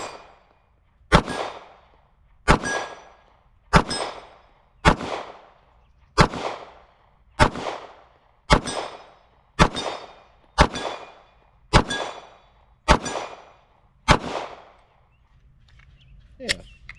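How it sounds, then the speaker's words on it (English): Pistol shots ring an 8-inch steel target at 35 yards: about eleven loud, evenly spaced cracks, each followed by a short metallic ringing decay, then quiet at the end. "we're just going to try to ring some steel"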